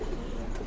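A brief, low murmur of cooing from Madrasi pigeons, soft and close with a faint rustle.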